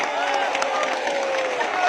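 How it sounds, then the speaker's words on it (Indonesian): A large ceremony audience at a martial arts brotherhood opening event fills the space with continuous applause and cheering voices, dense and even throughout. "Tepuk tangan."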